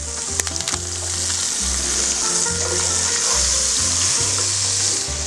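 Butter with a couple of bay leaves sizzles steadily in a pan for clams à la Portuguesa, a bright continuous frying hiss with a few sharp pops early on and a low intermittent hum underneath, no talk.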